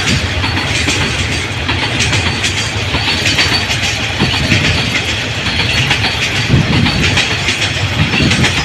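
A long freight train of about thirty-two wagons rumbles steadily past up close, wheels clattering over the rails in a continuous loud roar with faint metallic squeals.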